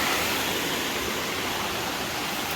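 A waterfall crashes down beside the Appalachian Trail, a loud, unbroken roar of falling water filling the air without pause.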